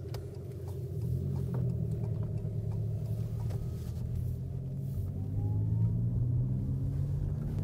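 Electric Abarth hatchback driving on the road with its speaker-generated synthetic engine sound played inside and out, a steady low droning rumble with rising tonal sweeps, continuous and fairly loud with no talking.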